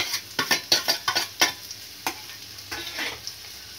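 Onion, garlic, ginger and dried red chillies fry in hot oil with a steady sizzle, broken by a quick run of sharp stirring scrapes early on and sparser ones later, with no voices.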